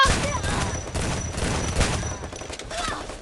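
Rapid bursts of gunfire in the shooter game Free Fire crackle almost continuously, loud and close, with a voice faintly under the shots.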